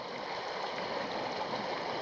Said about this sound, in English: I've had a couple little fast waters like this coming up